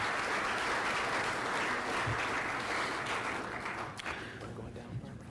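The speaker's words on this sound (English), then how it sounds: "Would you all give them a round of applause," A steady, loud round of audience applause for panel guests on stage at a forum on shared government services, dense clapping that tapers slightly near the end.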